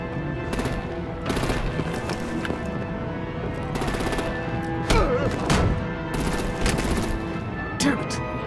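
Rapid automatic gunfire and blasts fill a Batman: The Enemy Within cutscene where artillery opens up on vehicles, with continuous rattling volleys and heavier thuds over constant battle noise.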